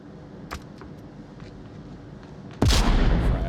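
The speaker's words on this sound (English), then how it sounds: "C4 just went off." C4 charge detonating in a multiplayer shooter game, a sudden loud blast with a rumbling tail after faint scattered gunfire and quiet background noise.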